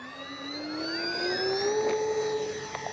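Twin electric-style motors of an Avios Twin Otter RC model plane spool up to full throttle for takeoff, a steady rising whine with climbing harmonic tones that swells and holds loud and close throughout, no voices.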